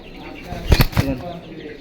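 A female pankhi pigeon flaps its wings in two quick, close bursts of fluttering with a short pause between, set against quiet background.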